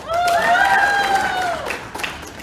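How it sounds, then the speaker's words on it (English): A convention panel audience at Animinneapolis answers a show-of-hands style call with a short burst of cheering, rising whoops over scattered clapping, loud at first and thinning out after a couple of seconds. "Show of applause."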